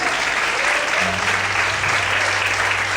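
Loud, dense applause from a church congregation fills the space evenly throughout, with a low organ or keyboard tone humming underneath.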